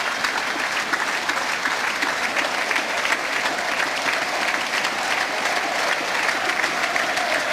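A football crowd at Plymouth Argyle against Derby County in 1998/99 applauds the home side with loud, continuous clapping that fills the stadium, steady and unbroken throughout.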